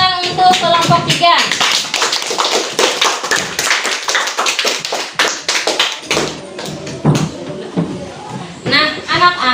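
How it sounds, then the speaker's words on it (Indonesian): A classroom of children applauds group 3, a dense burst of close clapping that swells, dips briefly and picks up again, with voices mixed in. "berikan tepuk tangan untuk kelompok 3"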